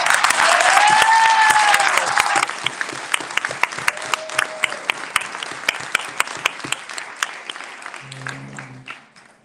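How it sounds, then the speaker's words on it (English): Loud applause and cheering from a crowd at a monthly meeting in Dolton Village Hall, a dense burst that thins into scattered claps and fades out over several seconds. "Give yourselves a round of applause."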